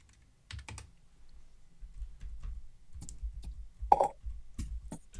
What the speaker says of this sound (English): Right now I'm typing in the Zoom chat.